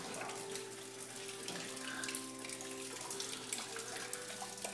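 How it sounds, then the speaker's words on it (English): Water pours steadily out of a removed engine part from a Porsche Boxster S during a home garage engine swap, a continuous close splashing flow at low level. "This thing was full of water."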